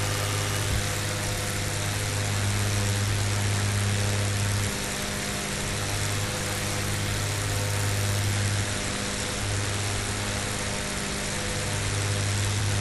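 Twin-engine Beechcraft Baron in Flight Simulator X climbing after takeoff, a loud, unbroken propeller engine drone with a steady low hum that briefly shifts partway through, heard without talk.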